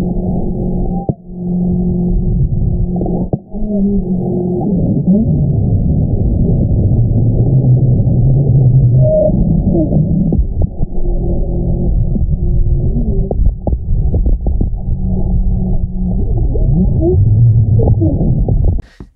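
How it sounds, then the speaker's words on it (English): Tens of thousands of hailstones strike the ground around a sensor, producing a steady, deep subsonic roar that rumbles on continuously with a few brief dips. "This here is the hail roar, when tens of thousands of hailstones impacted the ground around the sensor."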